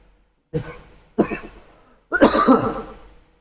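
A person coughing three times in a quiet room, two short separate coughs followed by a longer, harsher rattling cough, close and fairly loud with nothing else heard.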